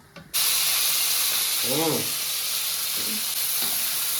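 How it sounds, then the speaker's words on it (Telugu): Hot oil spatters and sizzles loudly and steadily in a pan as masala is roasted with mustard seeds and mint, after a brief quieter start; a short voice-like sound rises midway. "ఆయిల్ అయితే నా మీద జంప్ చేస్తుంది గాయస్"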